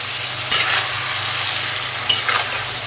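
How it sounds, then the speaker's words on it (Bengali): Shell-on prawns fry in a pan with Kashmiri chilli powder and salt, making a steady close sizzle with two bursts of stirring scrapes. "এবার সুন্দর করে ভেজে নেব।"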